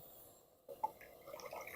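Water splashes and trickles into a mortar, starting abruptly after a quiet moment and continuing as a soft, close liquid pour.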